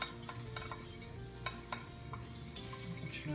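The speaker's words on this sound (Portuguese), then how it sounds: "Vou continuar mexendo um pouquinho. Nossa panela aqui, ela pega bastante calor." Food being stirred in a hot frying pan with the heat just switched off while making cheese quiche croutons, steady soft sizzle under scraping and clinking of a utensil against the pan, no talk.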